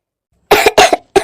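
An elderly woman lying in bed coughs three times in quick succession, with harsh, close, loud bursts separated by short pauses.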